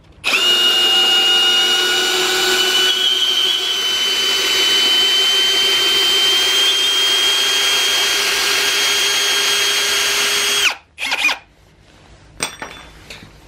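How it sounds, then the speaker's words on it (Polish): A Ryobi R18PD7 cordless drill driver backs out a screw with a loud, steady high-pitched motor whine lasting about ten seconds, close up, then stops abruptly, followed by a few faint clicks and handling sounds. "jeszcze na koniec ponownie sobie wykręcimy tego wkręcika"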